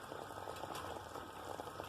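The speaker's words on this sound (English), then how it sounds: "It's cooking in its own water." Quiet bubbling simmer of lamb cooking in its own juices in a pot for a potato curry, a soft continuous burble with faint crackles and no talking.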